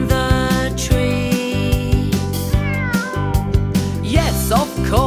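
A cat stuck in a tree meows loudly and repeatedly over a bouncy children's song with steady rhythmic music throughout, the cries rising and wavering near the end.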